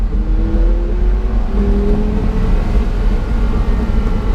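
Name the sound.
Porsche Carrera GT engine revving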